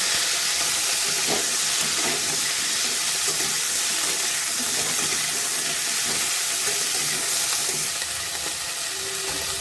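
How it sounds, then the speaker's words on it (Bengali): Lightly salted cauliflower florets fry in a pan for a Bengali-style cauliflower roast, giving a steady, close sizzle with faint stirring scrapes and clicks throughout, no voices. "এবারে হালকা করে ফুলকপিটা ভেজে নেব।"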